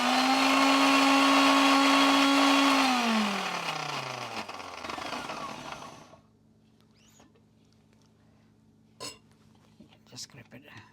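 Electric grinder whirring on cumin seeds with a loud steady whine that winds down and stops after about six seconds, followed by quiet with a few small knocks.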